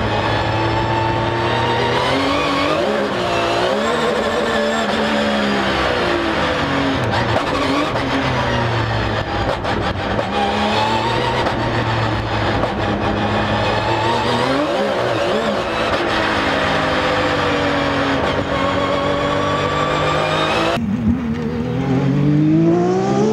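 A 540-horsepower, 1200 kg Porsche 997 RSR race car from 2012, running slick tyres on a frozen track, its engine loud and close, revving up and down in repeated swooping sweeps with tyre squeal and no talk.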